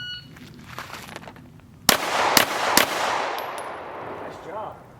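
Three sharp handgun shots in quick succession, fired two-handed after a draw in a timed shooting drill, loud and close with ringing decay and a faint electronic beep afterward.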